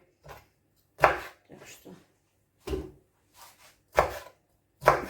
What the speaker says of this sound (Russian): Брокколи порезали.